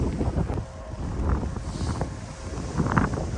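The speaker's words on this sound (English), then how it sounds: "That's quite windy now" Strong gusting wind batters the microphone on an exposed hilltop during a long-distance ride on a small e-bike, a steady low rumble swelling and easing in waves with no voices.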